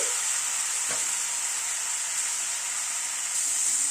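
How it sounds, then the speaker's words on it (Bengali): Spring onion stalks stirred and fried with spices in a pan for a rohu fish curry, giving a steady, loud, close sizzle with a soft stir scrape near the start and no talking. "পেঁয়াজ কলিটাকে একটু নাড়াচাড়া করে নিই মশলার সাথে।"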